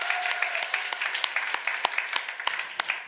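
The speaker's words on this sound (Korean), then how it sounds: "박수 한번 주세요." Scattered applause rises from a young-adult worship congregation in a church, with individual claps standing out sharply against a soft, steady crowd patter.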